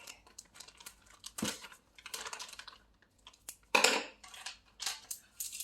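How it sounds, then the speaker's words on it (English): Someone cuts open a brand-new pack of sugar, with crinkling plastic, snipping and rustling in short uneven bursts, close up and moderately loud, with no talking. "Cut open my sugar because this is literally a brand new pack"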